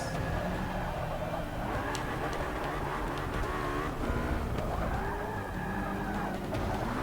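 Race car engines in Forza Motorsport 6 whine and rise through shifting revs, with tire squeal and skidding, close and continuous under light background sounds.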